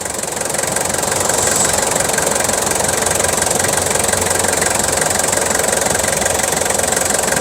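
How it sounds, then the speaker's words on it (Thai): The 3.0 diesel engine of a 2000 Toyota Commuter high-roof van idles close by, a continuous rough rumble with a fast knocking texture and no voices over it. "เสียงเครื่องเนี่ยเพาะๆเลย"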